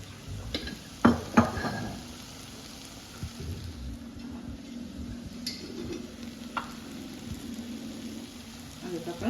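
Tomato and ginger garlic paste sautéing for a masala dosa filling: a steady soft sizzle with occasional spoon scrapes and knocks against the pan, mostly even and close.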